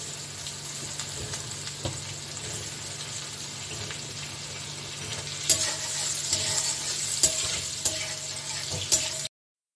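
Garlic sizzles in hot butter with cumin seeds, a steady close frying hiss with occasional stirring scrapes and taps before a sudden stop.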